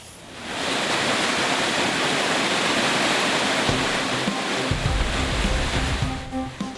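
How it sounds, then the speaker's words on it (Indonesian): Floodwater from the overflowing Citarik Cipencit river in Cicurug, Sukabumi, West Java rushes in a loud, continuous broadband roar, then turns choppier with splashing surges near the end. "Banjir bandang akibat meluapnya aliran Sungai Citarik Cipencit"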